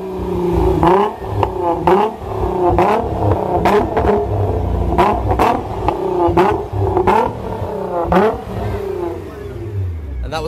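A tuned car engine is started and revved repeatedly up to about 4,000 rpm, loud, close bursts of rising and falling revs with short pauses between, and a voice briefly under the engine.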